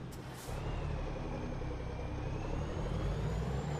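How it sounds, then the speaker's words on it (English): Heavy trucks rumble past in American Truck Simulator, a steady low engine drone with a hiss of air brakes near the start, continuous and fairly loud throughout. "Now all the trucks in the world are coming through here."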